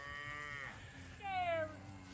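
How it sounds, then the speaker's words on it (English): Farm cattle being moved to new pasture let out two long, drawn-out moos close by, the second louder than the first. "Making a cattle move."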